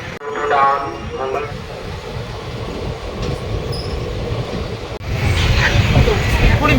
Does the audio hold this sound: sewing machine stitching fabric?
no